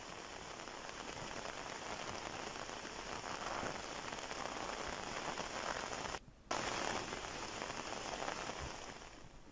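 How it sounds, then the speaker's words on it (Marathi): Heavy pre-monsoon rain falls in the Balamtakali area of Shevgaon taluka, with stormy winds: a steady, dense hiss of rain on surfaces, fairly close, with a brief dropout near the end and no voices. "शेवगाव तालुक्यातल्या बालमटाकाळीसह परिसरात मान्सूनपूर्व पावसाची वादळी वाऱ्यासह विजेच्या कडकडाटात जोरदार हजेरी या ठिकाणी लावली आहे"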